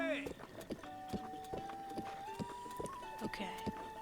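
Horse hooves clip-clop in a steady, even rhythm on a road in the video game Legend of Zelda Breath of the Wild, layered over soft game music with tonal notes.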